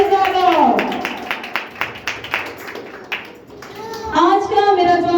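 A church congregation claps in welcome, rhythmic sharp hand claps that pulse through the middle while a voice speaks or sings over them at the start and end.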